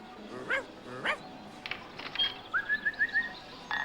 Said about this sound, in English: once he gets to the right door and makes the appropriate bark